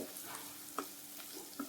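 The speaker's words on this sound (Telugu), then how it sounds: "ఇప్పుడు ఆ టమాటా ప్యూరీ దీనిలోకి యాడ్ చేస్తున్నాను." Tomato puree made from two blended tomatoes cooking in a pan for an amaranth leaves liver fry, giving a faint, steady sizzle with soft stirring scrapes and a couple of light knocks, and no talking.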